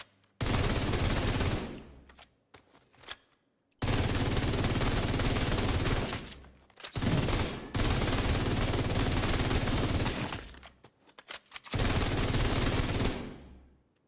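Automatic gunfire in The Division video game, four long sustained bursts of loud, close shooting separated by short pauses, with no talk.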